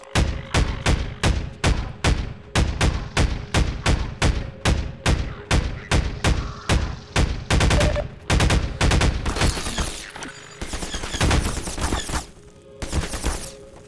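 Rapid bursts of player gunfire in the video game Half-Life 2, loud and close, with steady repeated shots that pause briefly and then resume in dense volleys.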